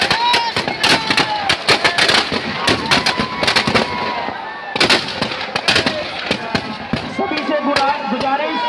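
Fireworks and firecrackers crack and boom in dense, irregular bursts at an outdoor Dussehra festival in Rohtak, with loud close reports and whistles over a noisy crowd.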